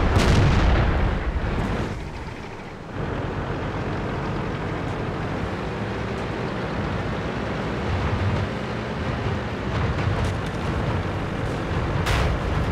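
A tank taking hits in World of Tanks, heavy booming impacts and rumbling battle noise running loud and continuous, with a sharp blast near the start.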